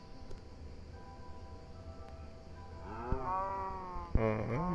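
Two drawn-out video game cow moos sound in succession, the second louder and closer, over a low steady hum with no talking.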